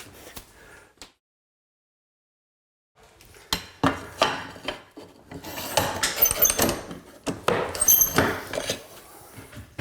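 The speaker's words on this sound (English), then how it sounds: "we use the scratch tool to cut that one" A scratch tool scores and snaps a ceramic wall tile during a DIY tiling job near the cabinets, with sharp scraping strokes and clicks that start after a brief silence and repeat rapidly up close.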